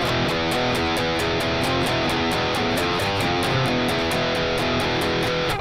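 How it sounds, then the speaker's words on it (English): Electric guitar playing a riff without palm muting: loud, distorted open chugging chords ringing in a steady driving rhythm, with no one talking. "If you don't play it with palm mute, it sounds like this."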